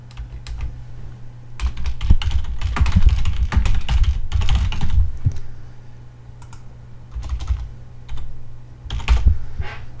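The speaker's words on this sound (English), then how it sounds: "I just typed in the name of my company here" Close computer keyboard typing of a company name, a quick run of clattering keystrokes in uneven bursts with short breaks, over a low steady hum.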